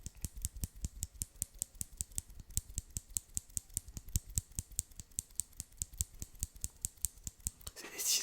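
Scissors snip over and over in a quick, steady rhythm, dozens of crisp close-up cuts in a row with no talking.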